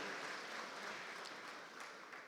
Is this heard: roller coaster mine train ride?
no